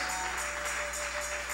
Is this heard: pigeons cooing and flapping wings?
no